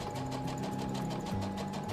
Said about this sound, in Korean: 기초적인 재봉틀 사용법 수업도 진행되고 있는데요